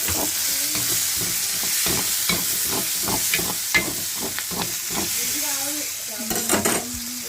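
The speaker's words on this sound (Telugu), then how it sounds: "ఈ ఫ్రై అవుతున్నప్పుడే కొంచెం అల్లం ముక్క వేస్తాను" Ginger pieces fry in a pan with steady crackling sizzle and repeated stirring scrapes, a few utensil clinks near the end.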